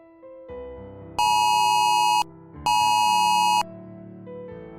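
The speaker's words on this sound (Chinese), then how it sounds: "手机突然响起刺耳的叫声，收到的信息是安珀警报" A mobile phone sounds an Amber Alert emergency alarm, a harsh, piercing two-tone electronic blare in two long bursts with a short gap between them, loud and close over a quieter low hum, with no talking.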